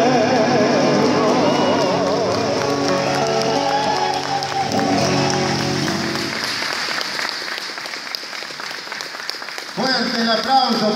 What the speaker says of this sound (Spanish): Fuerte el aplauso para estos dos payadores, Nelson Luna.